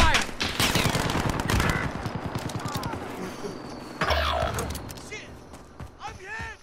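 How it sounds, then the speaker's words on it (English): In the Warzone battle royale game, loud rapid automatic gunfire rattles off in fast bursts, mixed with game sounds and voices. "Taking direct fire."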